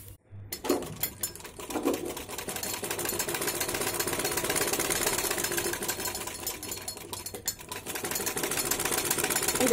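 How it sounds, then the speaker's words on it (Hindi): A sewing machine stitches a lining onto fabric near a garment's back neckline, its rapid, steady needle clatter starting after a brief pause and running continuously and close at a fairly even level. "और सिलाई लगाएंगे इसके ऊपर।"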